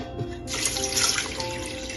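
Water poured from a mug into a pot of mutton yakhni for pulao, a close, steady splashing gush that starts abruptly and runs continuously, with no talking.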